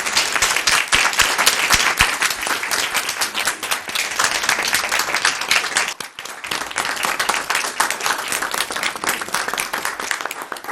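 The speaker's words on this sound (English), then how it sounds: "Please give these top finalists one more round of applause." A school board meeting audience applauds its top finalists; loud, dense, sustained clapping from a crowd, close and full, dipping briefly midway before continuing strongly.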